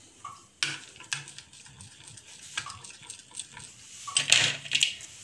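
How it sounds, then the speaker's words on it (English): Spoon stirring a chocolate custard mixture in a bowl, with soft scraping and light clinks at irregular intervals, close and fairly quiet, a few brighter knocks near the end. "Give it a good mix."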